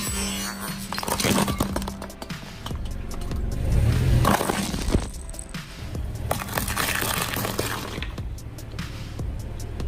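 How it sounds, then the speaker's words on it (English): A clay toy car crushed under the wheel of a real car, heard as loud cracking and crunching bursts over a steady low rumble of engine and tyre noise, with a heavier crunch near the middle. "A clay toy car broke under the pressure of the wheel."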